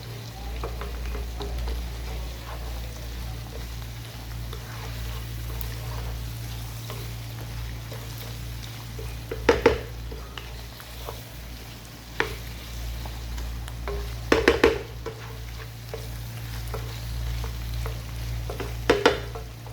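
Whole spices frying in a pan over a slow flame, a low steady sizzle with a constant hum beneath, broken by occasional scraping stirs and clinks of the spoon, close and without talk.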